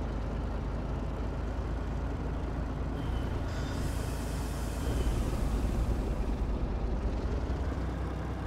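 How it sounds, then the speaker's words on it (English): An old-school Volvo rigid truck in Euro Truck Simulator 2 rumbles steadily under a broad brake hiss that swells midway and fades, loud and continuous throughout. "that braking noise"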